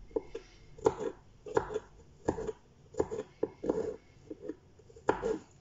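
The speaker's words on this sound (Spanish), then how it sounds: "Vamos a filetearlo allí un poquito, así pequeñito" A knife thinly slices garlic on a board, sending a series of distinct close taps in an uneven rhythm, each cut quiet and crisp with short pauses between, no voices.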